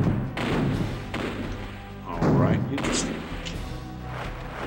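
Booming cannon fire from a pirate ship in the Pirates of the Caribbean: Islands of Fortune plug-and-play game, a series of deep thuds and bursts spread over several seconds, mixed with game noise and overlapping talk.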